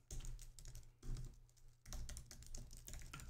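Code being typed on a computer keyboard, quick bursts of close, light key clicks in an irregular rhythm with a couple of short pauses, quiet and without speech.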